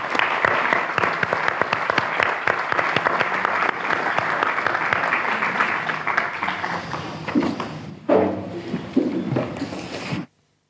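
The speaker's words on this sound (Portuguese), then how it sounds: "Uma salva de palmas também, novamente, por favor." Audience applause fills a Portuguese literary event, dense steady clapping for about eight seconds before thinning into a few scattered claps and fading to silence.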